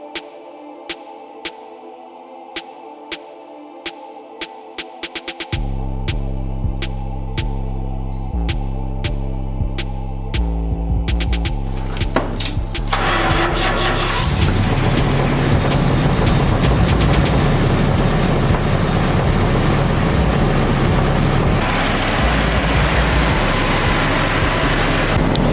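A 1973 Dodge D100 Mopar pickup engine cranks and catches, then settles into a loud, steady, throbbing idle that grows fuller and rougher as it runs.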